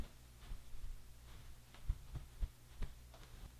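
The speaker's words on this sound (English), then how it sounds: "Pat the face dry." A towel pats a freshly shaved face dry in a few soft, low, muffled thumps spaced irregularly over a faint background hum, close and quiet.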